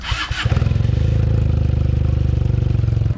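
A Benelli 300cc motorcycle engine idles close by, its firm rapid pulsing throb steady and loud after a brief burst of noise at the start.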